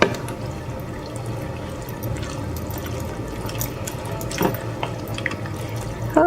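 Navy beans stirred in a pot of liquid with the bay leaves removed, giving a steady wet swishing and sloshing with a few brief clinks, moderately quiet and close, with no talking.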